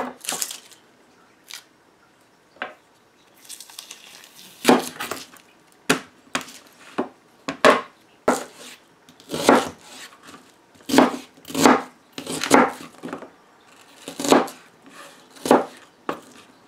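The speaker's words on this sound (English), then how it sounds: "you get about 3 large onions. They need to be chopped up and put into the bacon grease" Onions chopped on a board with a knife, about three large ones: sharp, close knocks falling in irregular bursts that grow quicker and denser, with no talking.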